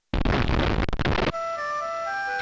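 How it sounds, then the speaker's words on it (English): A loud, broad explosion blast in a space video game cuts off abruptly after about a second, leaving a steady electronic hum with tonal beeps. "A horrible explosion."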